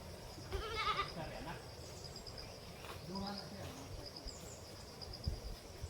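Two goats arriving at a farm give a few faint, wavering bleats at a distance, with a steady chirr of insects and crickets and light rustling in the background.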